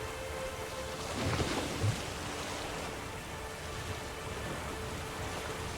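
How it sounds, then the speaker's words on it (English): A gentle storm at sea in the Witcher 3 game, with a steady hiss of rain on the surface throughout and a soft rumble of thunder rolling in near the middle, fairly quiet and with no voices. "Just going for a nice little sail in a let's call this a gentle storm."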